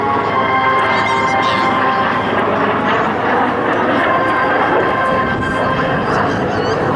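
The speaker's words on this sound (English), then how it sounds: "as well as this F-86 Sabre jet" A 1952 F-86F Sabre jet flies a Skyblazers demonstration at the 2017 McEntire JNGB air show, its engine a loud, unbroken roaring drone that holds steady throughout.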